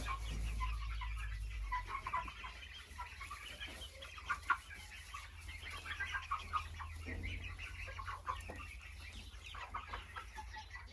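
Chickens cluck and chirp softly in fresh bedding, a steady busy chatter of small calls with a low hum beneath, no voices.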